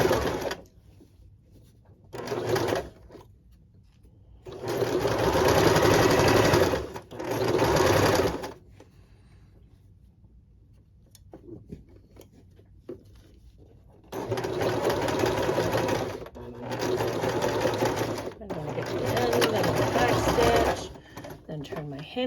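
A sewing machine stitches an outside seam and pocket in several loud bursts of running, separated by quiet pauses, with a longer continuous run near the end.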